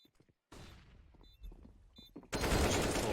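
Gunfire in Counter-Strike: Global Offensive during a competitive match, a quiet patch of scattered shots giving way to a sudden loud, dense burst of rapid firing in the final second.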